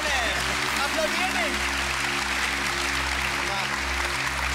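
Studio audience in a German TV show clapping, a steady wash of applause heard beneath a constant low hum, with some whistles and voices mixed in.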